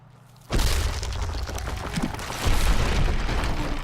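Homes crumble under a god's hand in Godus: a sudden heavy boom hits, followed by sustained crashing, rumbling destruction that swells louder again partway through, with no voices.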